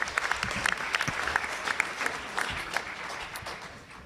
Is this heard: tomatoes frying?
no